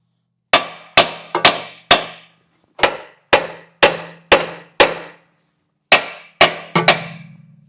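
A steel hammer beats repeatedly on a metal part fitted with a nut, about a dozen loud, ringing clangs in an uneven rhythm, each strike decaying quickly, close up and with no talking.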